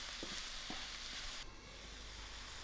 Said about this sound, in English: I'll give this a nice mix and lower my stove till my tomatoes cook out.